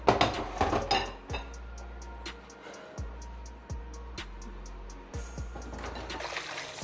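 Cocoyam being washed in water in a pot, with repeated sloshing, trickling and light clinks of metal or dish, alternating with quieter pauses; close and moderately loud, with no speech.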